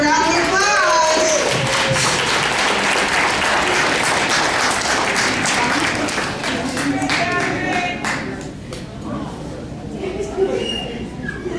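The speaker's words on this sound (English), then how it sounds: "Let's give her a round of applause." A room of guests at a 100th birthday party gives a hearty round of applause that gradually thins out, leaving scattered claps mixed with children's and adults' voices.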